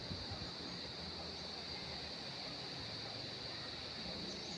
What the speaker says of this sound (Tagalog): Yan, itong ilog.